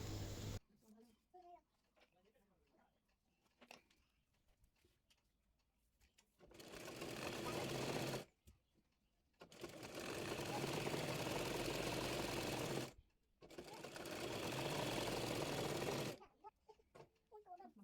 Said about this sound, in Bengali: নিচের অংশের কাপড়টি সেলাই করে নেব।